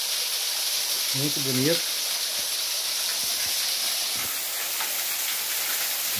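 Steady rain pours in the woods beside a waterfall, a broad constant hiss filling the scene from start to finish, with a brief voice speaking over it early on.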